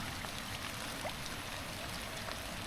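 Floodwater runs continuously through a Thai neighbourhood during heavy rain, overflowing toward houses. The flow is a steady, dense wash of moderate loudness with spattering rain mixed in, and no voices are heard.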